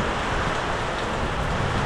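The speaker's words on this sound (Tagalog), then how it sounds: "Sobrang lakas ng ulan." Dense, steady heavy rain pours down hard with strong wind outside a dorm, a continuous loud hiss of drops with no pauses.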